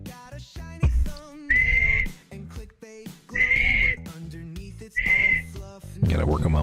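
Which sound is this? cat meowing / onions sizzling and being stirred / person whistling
person whistling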